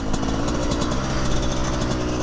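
A Yamaha YZ144 two-stroke dirt bike engine buzzes steadily with a rapid pulsing rattle, close and fairly loud, holding a high idle without speech.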